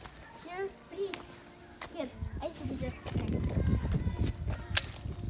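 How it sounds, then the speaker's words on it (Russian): A fireworks salute set off for a mother's birthday celebration in Naro-Fominsk: a few sharp cracks, then dense crackling bursts that build and grow louder, with children's voices and excited talk throughout. "Это был салют в честь мамы."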